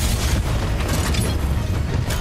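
A Titan destroyed in Titanfall 2 Frontier Defense, heard as a sustained, loud, rumbling explosion with heavy low boom and crackling debris that fills the whole stretch without pause.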